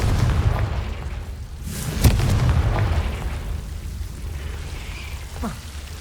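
A Confringo fire spell goes off in the Hogwarts Legacy video game as a muffled boom with a sharp burst near the middle, set over a low rumbling game soundscape with no voices.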